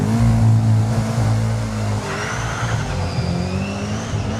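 A super touring era race car launches hard from the start line at the Goodwood Festival of Speed, its engine roaring loud and close with a brief tyre squeal as it pulls away and the revs climb and fade.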